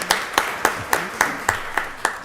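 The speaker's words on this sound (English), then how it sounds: "Keep clapping" Rhythmic, evenly spaced hand claps, about eight sharp beats in quick succession, from people at a county board of commissioners meeting applauding birthdays, fairly close with no talk over them.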